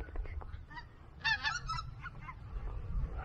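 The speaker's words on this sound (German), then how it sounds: "Und da hinten kommt auch noch ein Riesenschwarm Gänse." A large flock of geese honking outdoors by the Weser river, a few scattered calls at moderate distance over low wind rumble, with one brief louder cluster of honks in the middle.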